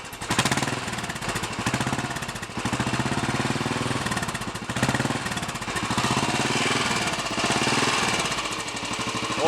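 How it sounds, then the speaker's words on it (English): A Royal Enfield Bullet 500 single-cylinder runs steadily with its exhaust baffle removed, giving a loud, rapid, booming thump close by that holds a constant idle rhythm throughout. "Certainly a little bit more of a boom coming out of the exhaust now than there was yesterday."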